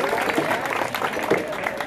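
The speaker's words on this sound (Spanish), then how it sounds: "Regalémosle un fuerte aplauso a estas lindas señoritas" A crowd at a jaripeo rodeo in Guarnecia claps for a group of young women, with brief cheering in the mix and fairly close, uneven clapping that stays loud throughout.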